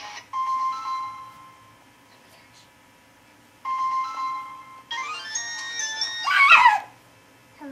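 Mobile phone ringtone repeating for an incoming call: two loud melodic tonal bursts separated by a pause, followed by a brighter, busier stretch of tones that swells and then cuts off, heard close and clear.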